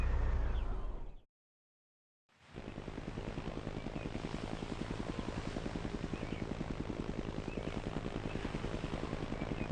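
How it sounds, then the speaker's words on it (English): Helicopter from the video game Operation Flashpoint: Elite, a loud steady rotor and engine roar with rhythmic blade chop, starting abruptly after a brief silence and holding constant. "Now let's get that chopper in the air."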